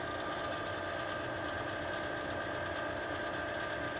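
A faulty furnace blower motor runs with a loud, steady mechanical whir and rattling hum, continuous and close with no pauses or talk.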